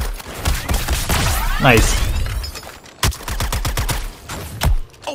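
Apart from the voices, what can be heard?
gunfire in Suicide Squad Kill the Justice League video game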